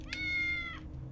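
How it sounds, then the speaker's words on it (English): A cat meowing in the video game Tales of the Neon Sea, a single clear drawn-out meow over a low steady background hum, fairly quiet. "William was meowing and dancing."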